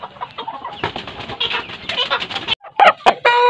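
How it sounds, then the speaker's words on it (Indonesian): Kampung breeding hens, a cross that includes Bangkok chicken blood, cluck close by in a busy flurry of short calls, followed by a brief pause and a few sharper squawks. "ini merupakan indukan ayam kampung termasuk super guys"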